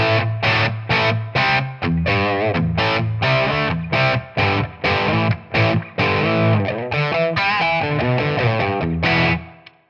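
Bridge-pickup electric guitar through a ToneX capture of a Victory amp at higher gain, driven and saturated, playing chugging rhythmic chord stabs with short gaps, loud and upfront, ending on a ringing chord that fades out.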